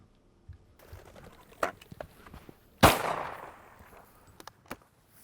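A single loud shotgun blast rings out during an upland pheasant hunt in Fall River, Kansas, a sharp crack trailing into a brief decay, with scattered faint rustles and small clicks before and after.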